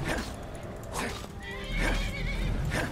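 Several horses whinny and neigh in the video game Skyrim, three or four high, shaky calls spaced across a few seconds over a steady rumbling background.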